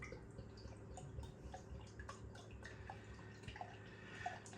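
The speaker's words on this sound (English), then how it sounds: "Let's get the beer out into a glass and see what we get" Wildbräu Kirtabier, a German Märzen-style beer, poured from the bottle into a German-style beer glass, giving a soft, steady liquid trickle and faint fizz with a few small drips, heard close and quiet throughout.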